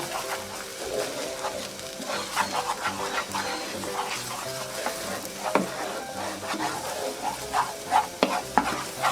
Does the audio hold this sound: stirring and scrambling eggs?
yes